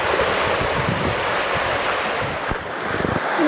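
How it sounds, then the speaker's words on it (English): Steady roar of ocean surf washing in and out on a broad sandy beach in Tasmania, close and continuous, with wind buffeting the microphone throughout and no one talking. "Big sandy beach around there. Oh, look at it. Waving in and out with the water."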